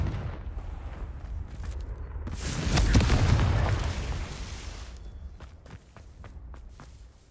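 A fiery Confringo spell blast in Hogwarts Legacy swells into a loud, broad boom partway through. Lighter footstep-like taps and clicks sit around it, with no talking.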